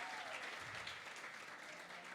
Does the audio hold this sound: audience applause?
yes